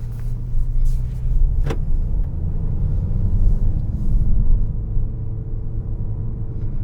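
2021 Honda HR-V EX AWD with a CVT driving along, a steady low road rumble and engine hum from inside the cabin, with a brief click partway through.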